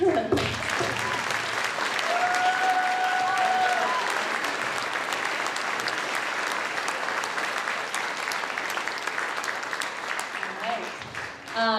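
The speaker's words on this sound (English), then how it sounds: "So Lee, do you want to come up here and accept this applause?" Applause from the audience at a band concert, a long, steady roar of many hands clapping that holds for over ten seconds before tapering, with a few voices and cheers briefly audible early on.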